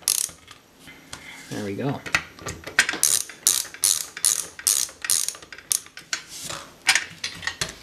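Screws being removed from a 1 terabyte hard drive, a rapid series of close, loud ratcheting clicks from a screwdriver repeating steadily, with a brief spoken remark near the start.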